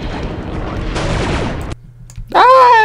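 Bursts of blaster gunfire from the Star Wars Republic Commando video game ring out in a dense, loud volley for nearly two seconds, then give way to a low hum and a sharp, rising synthetic whine near the end.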